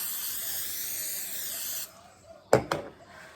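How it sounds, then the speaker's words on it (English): Cooking spray hisses onto a baking pan in one continuous, close spray lasting nearly two seconds, followed by a quiet pause and two short clunks. "So I'm gonna spray my pan so it will be ready to go."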